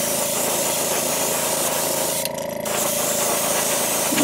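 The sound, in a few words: airbrush spraying Createx opaque white base coat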